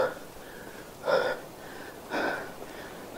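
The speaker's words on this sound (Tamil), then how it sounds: "மூச்சு வாங்குது." A hiker breathes heavily while climbing a mountain, with two distinct, loud, close gasping breaths about a second apart over quieter background breathing.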